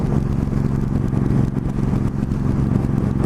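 A motorcycle engine held steady in fifth gear on a windy road, a loud continuous drone with strong wind buffeting throughout, no voices.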